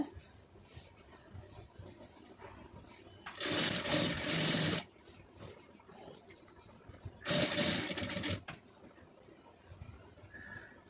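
Sewing machine stitching fabric piping in two bursts of rapid whirring, close and loud, separated by quieter room sound with faint talk in the pauses.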